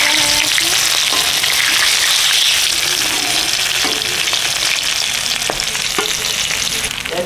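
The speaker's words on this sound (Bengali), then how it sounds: "মাছ ভাজা হয়ে গেছে।" Pieces of katla fish fry in hot oil in a pan, giving a loud, continuous close-up sizzle broken by occasional clicks as the pieces are stirred and turned.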